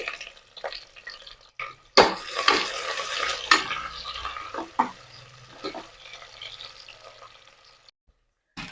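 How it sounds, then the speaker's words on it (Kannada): Chopped onion drops into oil with a bay leaf and garam masala for a vegetable pulao, bursting into a loud sizzle. Close spoon scrapes and pan clatter follow, and the frying hiss gradually settles. "ಎಲ್ಲ ಸ್ವಲ್ಪ ಫ್ರೈ ಆದ್ಮೇಲೆ ನಾನೀಗ ಒಂದು ದೊಡ್ಡ ನೀರುಳ್ಳಿ ಹಾಕೊಳ್ತಾ ಇದ್ದೀನಿ"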